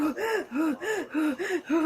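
Rapid, heavy breaths in a steady rhythm, about three quick in-out cycles per second, close and fairly loud with no talking.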